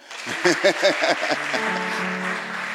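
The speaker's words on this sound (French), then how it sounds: "applaudissez-vous vous-même" A church congregation applauds in a hall, a continuous wash of clapping with loud voices calling and talking over it.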